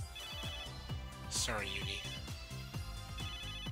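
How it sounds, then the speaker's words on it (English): A repeating electronic phone ring from Megadimension Neptunia VIIR sounds in quick bursts across the whole span, while a voice speaks briefly over it partway through. "Your phone's going off."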